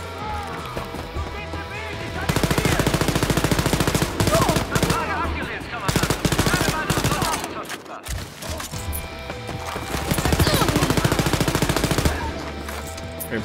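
Automatic gunfire rattles in rapid, loud bursts during a first-person shooter firefight in Wolfenstein: Youngblood, with brief pauses between the volleys.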